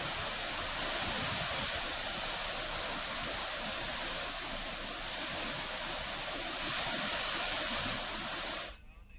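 Swollen Jogidhara stream rushing after heavy rain in Chamoli, a steady broadband roar of fast water running continuously and loud before cutting off abruptly at the end.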